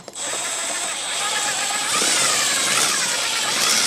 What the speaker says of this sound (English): So the drill bit I prefer to use is a 3/16 small little drill bit.